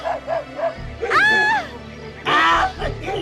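Several dogs yelp and bark in short excited bursts, loud and close, with high whining cries rising over a busy background of music and voices in a dubbed Hindi action film scene.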